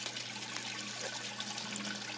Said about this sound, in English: water runs down the inside, nice and neat, soaking all the plants on the way down